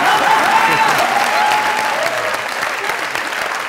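Loud, sustained studio audience applause greets a guest on a comedy talk show, dense clapping holding steady for several seconds before easing slightly.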